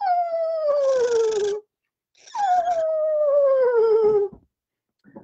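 A person vocally imitates the descending whinny call of a screech owl, two drawn-out quavering falling wails separated by a short pause, close and fairly loud.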